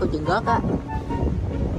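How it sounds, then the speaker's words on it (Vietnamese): Strong outdoor wind buffets the microphone with a heavy low rumble that continues throughout, while a person talks briefly at the start. "Ôi gió lớn lắm"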